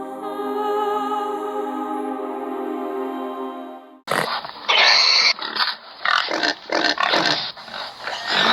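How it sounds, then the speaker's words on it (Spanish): A pig gives a run of loud, rough grunts and snorts in choppy bursts, following a sustained steady humming tone in the first half. "El sonido de un cerdo, el sonido de un marranito, el sonido de un cochinito, el sonido de un puerquito."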